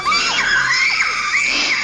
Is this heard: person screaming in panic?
yes